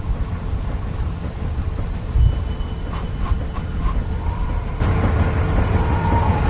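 Thunderstorm in The Walking Dead video game, a steady roar of wind and rain with low rumbles and a brief thump, rising louder near the end, with no talk.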